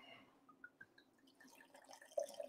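Red wine glugs from a bottle into a glass, a quiet rising series of liquid pops and gurgles growing louder toward the end.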